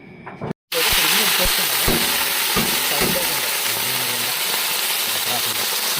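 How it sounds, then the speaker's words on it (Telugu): Forest wasp larvae fry in hot oil with a steady, close crackling sizzle after a few sharp clatters at the start, while a voice talks quietly underneath. "పురుగుని అయితే ఈ విధంగా అయితే ఫ్రై చేసుకోవాలి ఇప్పుడు నీట్గా అయితే ఫ్రై చేసేసుకోవాలి"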